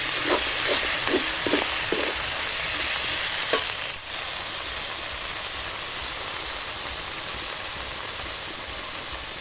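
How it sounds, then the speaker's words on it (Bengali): A paste of dried chili, coriander and cumin dropped into a hot pan, a loud, close, steady sizzle with a few stirring knocks at first, then a constant hiss with no talking. "এবার আমি শুকনো লঙ্কা, ধনে আর জিরে বাটাটা দিয়ে দিচ্ছি।"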